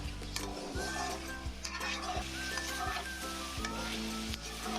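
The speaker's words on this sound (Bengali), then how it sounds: "আদা রসুন বাটা দিয়ে আমি চিকেনটা ভেজে নিয়েছি" Chicken fries with ginger garlic paste for a malai curry, a continuous crackling sizzle with occasional ticks and stirring knocks over a steady low hum.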